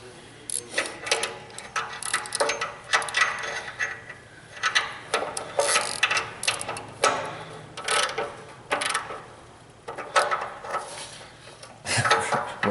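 A wrench ratchets and clicks in repeated short bursts while tightening an oxygen sensor on a hot Toyota engine, close mechanical ticking with brief pauses between strokes.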